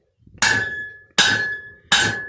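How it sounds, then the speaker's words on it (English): Three loud, evenly spaced hammer blows ring out on a steel knife blade being forged and straightened, each strike sharp and metallic with a lingering ring, no talk. "I'm forging just a little under the square block you saw in the last skit. I'm also re-straightening the blade."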